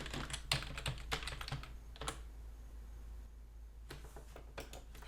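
Someone types an administrator sign-in password on a computer keyboard at close range, in two short bursts of clicking keys separated by a brief pause.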